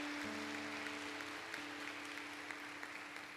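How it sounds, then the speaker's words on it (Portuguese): Church congregation applauding during a Portuguese-language worship service, a steady dense wash of clapping throughout, with a sustained low tone underneath. "Então se aplauda,"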